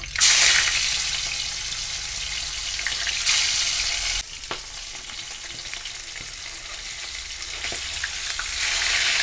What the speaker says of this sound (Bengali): তেলটা গরম হয়ে গেছে কাঁটাগুলো ভেজে নিচ্ছি